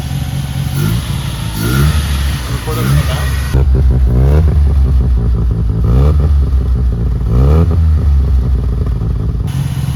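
Streetported Mazda RX-7 rotary engine idling with a choppy, lumpy rhythm, then revved several times in sharp, loud bursts that rise and fall, close to the car, with a person speaking briefly.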